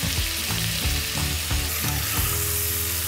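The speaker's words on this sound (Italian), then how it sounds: "Ci siamo, inseriamo la cipolla. La facciamo appassire delicatamente." Onion and pancetta frying in a pot, a steady dense sizzle with small crackles running throughout, close and fairly loud, with no voices over it.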